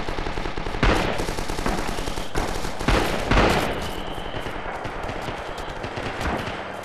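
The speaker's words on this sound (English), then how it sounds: "I'm denying them here with the pistol," Pistol gunfire in the Red Orchestra 2 video game, with rapid repeated shots amid dense, continuous battle noise and several louder close cracks.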